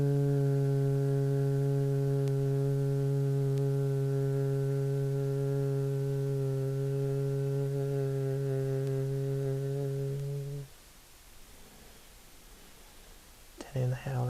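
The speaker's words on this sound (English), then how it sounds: "And then you're going to hum." A person hums one long, steady, low note on an exhale during a vagus nerve breathing exercise, held close and clear for about ten seconds before stopping, then a quiet breath follows.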